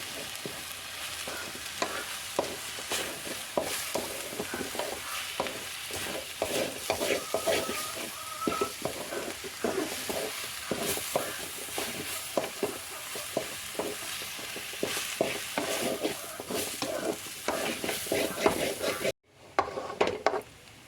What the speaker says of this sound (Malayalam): ഇനി എല്ലാം കൂടി മിക്സ് ചെയ്യാം